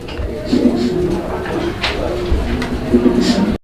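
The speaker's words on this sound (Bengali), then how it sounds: "আপনার কবুতরের ডাক দেখেন একদম অসাধারণ" Low, rolling pigeon coos repeat steadily through the clip, mixed with other birds calling and a background voice.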